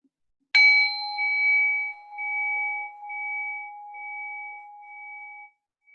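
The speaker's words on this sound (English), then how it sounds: "Rest your mind on the sound of the bell." A single meditation bell is struck once and its clear, pure tone hangs and slowly fades over about five seconds into silence.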